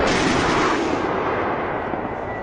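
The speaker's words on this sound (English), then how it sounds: "We hear another helicopter firing off its rockets." A helicopter fires a loud burst of rockets in war footage from Ukraine, a sharp blast that trails off into a rushing, fading rumble.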